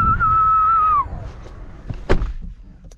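A person whistles a sustained, gliding tone for about a second, then it stops, leaving quiet room noise and a brief thump.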